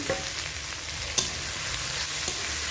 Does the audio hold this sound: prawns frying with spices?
yes